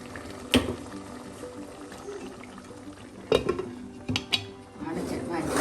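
A metal cooking pot holding a Kerala-style coconut kingfish curry is lidded and shifted off a stove, giving sharp clanks of lid and pan in a few bursts over quiet kitchen background.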